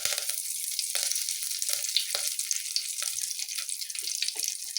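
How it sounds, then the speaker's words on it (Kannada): Curry leaves drop into hot oil for a pulao and sizzle with a dense, crackling fry, with occasional pops and stirring clatter heard close throughout. "ಸೊ ಸ್ವಲ್ಪ ಕರಿಬೇವು ಹಾಕ್ತಾ ಇದ್ದೀನಿ."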